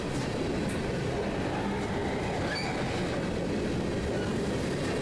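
Southbound freight train led by Savannah and Atlanta heritage locomotive 1065 rolling past, a steady, loud rumble of rail cars with faint wheel squeal, continuous throughout with no voices.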